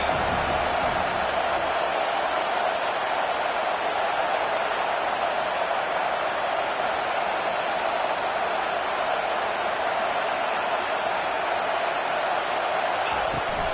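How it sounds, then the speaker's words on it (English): A video-game football stadium crowd roars in a steady, dense wash of noise as it rises up behind the defense, continuous for the whole stretch with no distinct voices standing out. "This crowd rising up, sensing that its defense needs some help."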